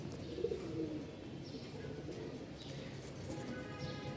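A male silver bagha pigeon gives low, soft coos, most noticeable early on, against a quiet, steady background with faint chirps.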